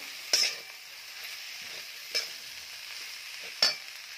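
A spoon stirs sautéed ghevda bean pods in a pan, with three distinct scraping strokes spaced about 1.5 seconds apart over a steady low sizzle, close and fairly quiet.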